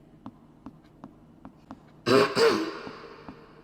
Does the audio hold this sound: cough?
yes